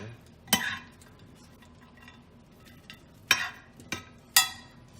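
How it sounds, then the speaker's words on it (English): A spoon stirring a chicken pesto casserole mixture with bacon makes a few sharp clinks and scrapes against the dish, spaced apart over a quiet background. "I'm just gonna stir all this stuff up so that nothing's kind of on top"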